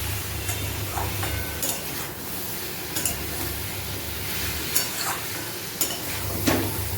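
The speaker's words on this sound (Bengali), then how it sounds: "আলু কচু ও ডিম একসাথে ঢেলে নেব, দিয়ে ভালো করে মাখিয়ে নেব মশলার সাথে" Potatoes, taro and eggs are tossed through fried masala in a pan, a constant sizzle with occasional scraping stirs and light utensil knocks, close up and without speech.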